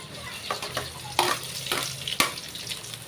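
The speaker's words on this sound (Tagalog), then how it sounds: "Kaya mga pre, bigisa muna tayo ng bawang." Garlic is sautéed in a pan as a base for a shrimp dish. A soft sizzle sits under a few sharp scraping stirs, close by and fairly quiet.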